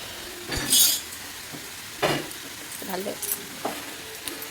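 Oil sizzles quietly as vegetables fry in a wok while a utensil scrapes and clanks against it a few times, with faint voices in the background.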